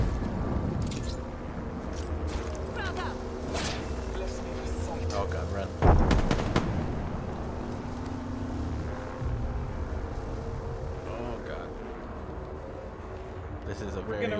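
Gunfire in the Apex Legends battle royale game crackles amid a busy, dense mix, with a louder burst near the middle, while players talk over the action throughout.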